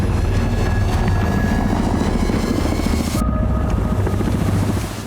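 Indian Air Force MI-8 and Chetak helicopters fly in a loud, steady roar of engines and rotor thump that stays constant throughout.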